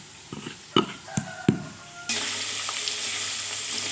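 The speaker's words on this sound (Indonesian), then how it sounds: "kita bolak-balik seperti ini ya, agar matang merata jengkolnya" Jengkol (dogfruit) is flipped in a pan with a few sharp utensil clacks, then settles into a loud, continuous close sizzle of frying.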